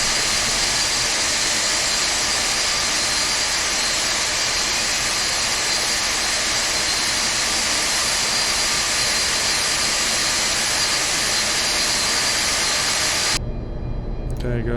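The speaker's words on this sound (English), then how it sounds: "Starting engine 1. Starter valve open." A steady, loud jet engine roar with a high whine fills the cockpit as engine number one spins up on a simulated Boeing 747-200 freighter in X-Plane 11, holding constant until it cuts off abruptly near the end.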